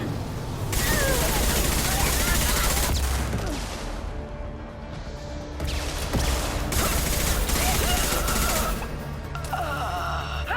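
Sustained high-impact gunfire in the video game Mass Effect 2 fills the battle, with dense bursts of shots over a loud, continuous combat din and occasional voices.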